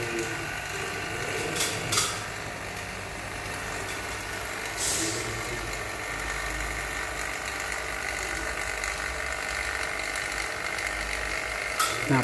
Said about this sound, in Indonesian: Sementara saya proses vakum kurang lebih 20 menit.